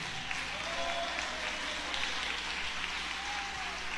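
A church congregation claps their hands together, a dense continuous patter of many hands with no distinct rhythm, steady and fairly close throughout.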